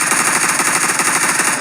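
Rapid automatic gunfire in the PUBG video game training room, a loud continuous burst of evenly spaced shots with no talking over it.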